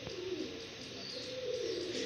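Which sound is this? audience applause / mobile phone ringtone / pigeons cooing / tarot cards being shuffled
pigeons cooing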